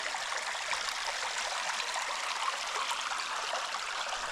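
Clear mountain stream running through a Carpathian forest, a steady close wash of flowing, trickling water with no voices, even and unbroken throughout.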